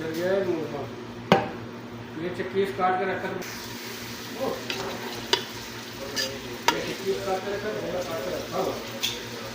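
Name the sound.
chopped onions frying in hot oil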